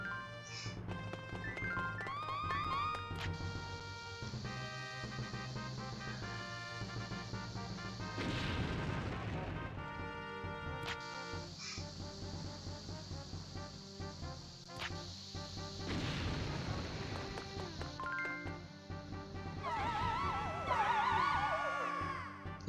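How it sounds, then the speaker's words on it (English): Bombs blasting against walls in Zelda: Four Swords Adventures, game booms and crashes scattered through a stretch of chiptune-style music, with several bursts standing out from the steady background. "Good old bombs next to walls."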